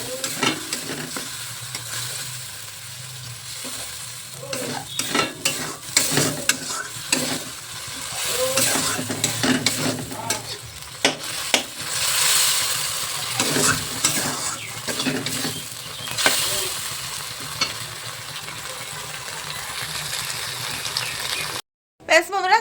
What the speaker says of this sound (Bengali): মাছের তেলটা ছেড়ে দিয়েছি, দেখা হতে থাকুক।